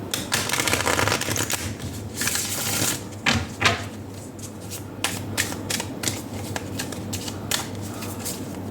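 Tarot cards being shuffled and drawn from a Romance Angels deck, a dense papery riffle and flutter for the first few seconds, then scattered crisp card slaps and flicks, close and fairly quiet with no talk.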